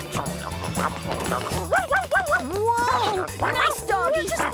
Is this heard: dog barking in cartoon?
yes